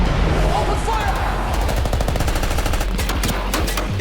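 Loud bursts of blank gunfire from automatic weapons crackle rapidly during a stunt shoot for an action movie set, with overlapping shots close by and some voices underneath.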